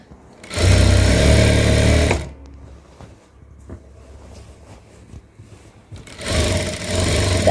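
A sewing machine stitches along the side of a slit in two loud, steady whirring runs close by, separated by a pause with light handling noises.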